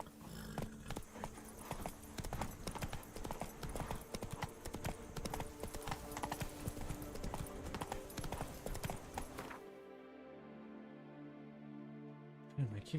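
Roach the horse gallops in The Witcher 3, rapid close hoofbeats pounding steadily for about ten seconds before stopping abruptly, followed by a quieter tonal game sound and a faint voice.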